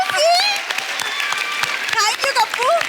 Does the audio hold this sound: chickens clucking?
no